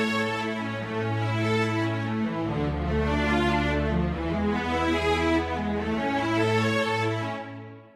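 Sustained instrumental triads on the I, IV and V chords of A harmonic major move slowly through three chord changes, full and steady, then fade at the end.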